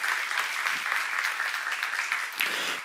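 A crowd clapping together in a church seminar, a steady, dense patter of applause held at an even level for about three seconds before cutting off.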